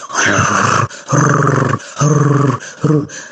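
A person imitates a dog with a voice, giving four loud rough bursts of barking and growling separated by short pauses, close up and without other talk.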